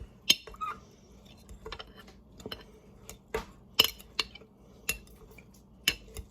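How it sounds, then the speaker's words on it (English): A metal knife stirring minced garlic in oil inside a glass jar gives sparse, faint clinks and taps against the glass, irregular and close, with quiet scraping between the sharper ticks. "a knife to stick down in the jar."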